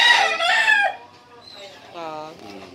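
A cheaply bought rooster crows loudly and close by, followed by a softer second crowing call, with no talking.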